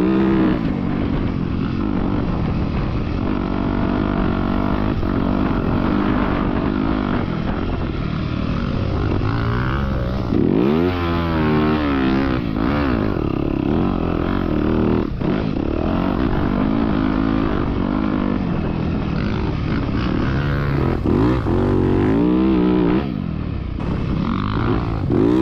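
A motorcycle engine with a throaty bottom end, nearly 80 hours on it and never had a valve adjustment, revs loud and close for the full stretch, pitch rising and falling with throttle changes.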